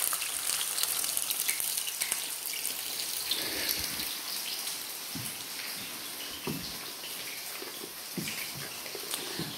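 Food frying in hot oil, a constant close sizzling hiss with scattered pops and crackles throughout.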